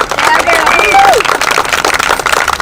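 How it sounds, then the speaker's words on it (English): A crowd at an outdoor car club meeting claps and cheers, with loud voices, whistles and babble mixed in close to the microphone. "Let's give him a round of applause, baby."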